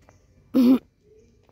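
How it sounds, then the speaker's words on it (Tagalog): A single short cough or throat clear, close and fairly loud, in otherwise quiet surroundings. "Inuubo pa rin ako."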